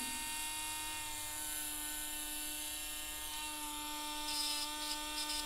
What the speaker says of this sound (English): We'll just Dremel a little bit here.